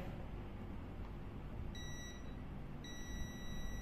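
A CHINT palm-size digital multimeter in continuity mode gives two steady high-pitched buzzer tones, the first short and the second longer, faint over a constant background hiss.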